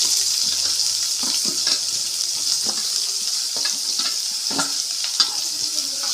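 Big onions frying in a pan of hot oil, a bright steady sizzle with scattered crackles and spoon scrapes at close range, constant in level.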